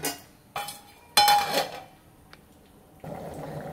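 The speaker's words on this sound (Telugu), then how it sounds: "ఇప్పుడైతే మనం మూత అయితే పెట్టేసుకుందాం" A metal lid is set onto a pot of tomato dal curry on the stove, giving a few sharp clanks with a brief ringing tone, then a softer clatter near the end, with no talking.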